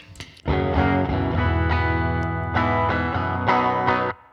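Clean electric guitar notes and chords through a Princeton tube amp ring out one after another, sustained and bright with a warm tone, close and fairly loud.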